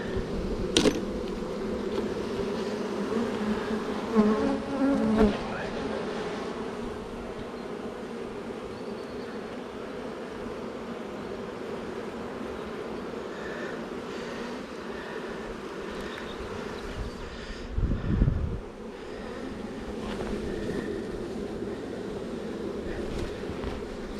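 A dense swarm of honey bees hums steadily around an open hive with a drone-laying queen, close and sustained, broken by occasional knocks and wind buffets on the microphone.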